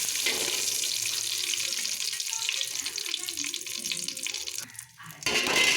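Crushed cardamom, clove, cinnamon, bay leaf and green chili frying in ghee for fried rice, a steady close hiss and sizzle that runs throughout, briefly dipping before rising again at the end.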